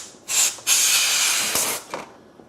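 Compressed air blasting dust out of a slot machine's card slot, loud close hissing bursts, one short then a long sustained blast with a few brief puffs after.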